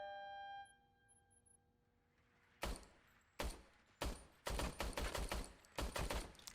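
Bursts of gunfire from a broken service weapon in the video game Robocop Rogue City. A few loud separate shots ring out after a quiet tonal start, then a rapid, louder volley follows.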